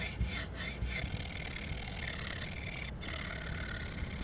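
A Zwilling Kramer Damascus chef's knife scrapes back and forth on a PDTools silver CBN sharpening stone, the heel worked in a continuous close rasping rub with a couple of short pauses between strokes.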